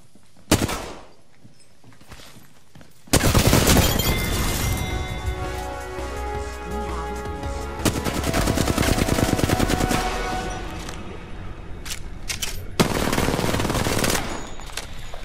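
Heavy automatic gunfire from the video game Apex Legends, with loud, close sustained bursts of rapid shots and a few isolated single cracks before and between them.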